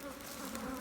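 Honeybees buzz inside a hive as it is opened for splitting, a steady, close, continuous hum of many wings with no pauses.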